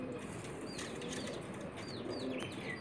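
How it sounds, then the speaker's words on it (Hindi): A homing pigeon flaps its wings as it comes down to land in the morning, soft fluttering over steady outdoor background noise with faint chirps from other birds. "ये देखें जी कबूतर आखिरी गेड़े पे आ गया"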